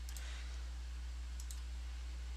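Two quiet pairs of computer mouse clicks, one at the start and one about a second and a half later, over a faint low electrical hum.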